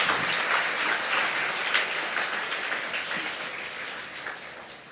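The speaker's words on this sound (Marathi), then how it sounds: "साहेबांचं जरा टाळ्या वाजून सगळेजण स्वागत करा" An audience claps to welcome a guest, a dense, sustained round of applause from many hands, loud and even at first and tapering off gradually.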